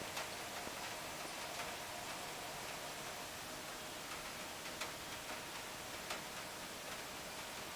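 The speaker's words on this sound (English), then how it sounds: "you can hear the rain in the background on my air conditioner." Rain patters on an air conditioner as a steady hiss with scattered faint ticks and drips, quiet and continuous.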